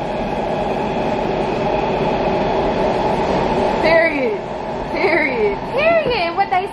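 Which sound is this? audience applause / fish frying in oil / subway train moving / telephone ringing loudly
subway train moving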